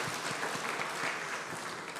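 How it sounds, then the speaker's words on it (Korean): A church congregation at a Sunday worship service applauds, a dense, soft wash of many hands clapping at some distance, steady and fairly quiet throughout with no talking. "우리 박수 한번 드립시다."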